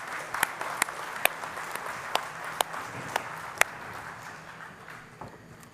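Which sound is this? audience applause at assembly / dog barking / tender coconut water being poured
audience applause at assembly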